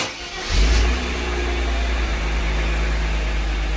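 A Mercedes SL engine cranks and fires after sitting unused for months, catching with a loud low rumble that settles into a steady idle, heard alone without talk.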